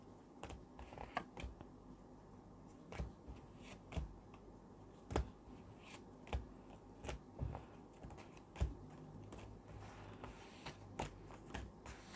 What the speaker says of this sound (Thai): ทีนี้อาจารย์จะขอสับไพ่ใหม่เพื่อเปิดดวงปี 2565